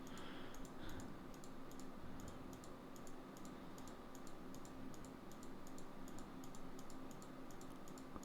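Rapid, steady clicking from a computer mouse and keyboard while someone works in Houdini modeling residential fences, a dense run of small clicks over a low background hum with no talking.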